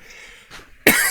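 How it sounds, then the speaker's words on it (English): A man coughs once, loud and close, on a live UFO-themed talk show, a single harsh burst near the end after a brief faint sound. "It's funny how I always do a live show and end up coughing"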